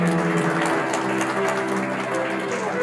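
At a new-technology certificate presentation ceremony, a hall audience gives a short, even round of applause with a sustained tonal background under it.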